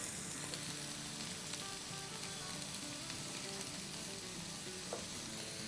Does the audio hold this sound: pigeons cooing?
no